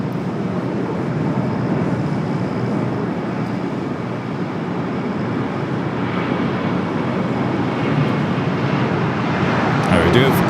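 An EVA Air airplane takes off at LAX, producing a steady, broad jet roar that builds slightly toward the end, heard from a distance with wind noise and faint talking mixed in.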